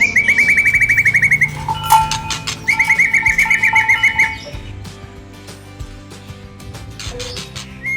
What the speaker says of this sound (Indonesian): ini murai. Murai semua ini ya?